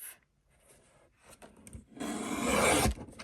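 A paper trimmer slides and cuts through a craft banner piece: a few quiet scrapes followed by one longer rasping slice up close, with no talking.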